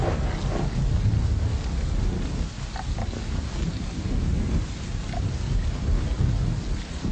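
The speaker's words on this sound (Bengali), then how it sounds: "গ্রীষ্ম আসার আগ পর্যন্ত পুরো সময়টাতেই প্রচুর বৃষ্টি হল।" Steady rain hiss with low, rolling rumbles of thunder running underneath throughout, fairly loud and continuous with no voices.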